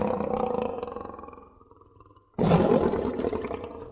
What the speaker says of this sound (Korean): 그리고 으르렁대는 사자들의 소리도 들렸어요